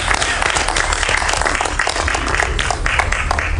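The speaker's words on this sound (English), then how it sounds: "Let us clap our hands for change." A studio audience claps hands steadily throughout a morning talk show, a dense, even patter of many hands close by with no pause.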